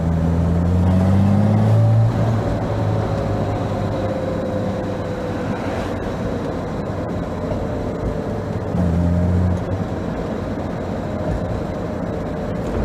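A Jaguar E-Type potters along at low speed in second gear, a steady rumbling engine drone with road noise, swelling slightly a couple of times as it pulls.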